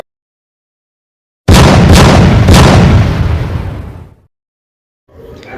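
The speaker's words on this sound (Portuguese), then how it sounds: "Kevin atirou 3 vezes contra a Tinoquinha Malamé" Three gunshots in an animated story, fired in quick succession as one loud booming blast with a long rumbling decay that fades after a couple of seconds, alone with no talk.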